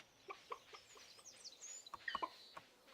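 Farm chickens in the game Stardew Valley cluck in short, scattered bursts over a quiet background, with several brief chirpy calls clustering toward the end; the sound is soft and no one speaks.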